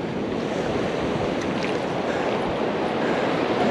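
Ocean surf rolls onto a beach on Hilton Head Island, a steady, loud, unbroken wash of waves with some wind buffeting the microphone and no voices.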